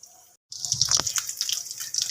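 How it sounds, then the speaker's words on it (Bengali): Potato cheese balls drop into hot oil and start frying, setting off a sudden close sizzle that stays as a steady crackling hiss after a moment of silence. "এইবার আমি এটাকে গরম তেলের মধ্যে ফ্রাই করব।"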